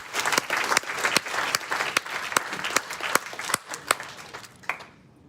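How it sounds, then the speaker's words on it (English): An awareness event audience gives a round of applause, a moderate room of clapping with a few sharp, prominent claps standing out before it fades to silence. "we'll give a round of applause to Oliver Johnson"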